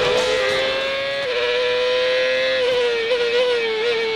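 CART race car on an onboard qualifying lap at Vancouver in 2002 with Kenny Brack driving, a loud, sustained high-pitched engine whine held near one pitch with small dips and rises as it shifts and accelerates.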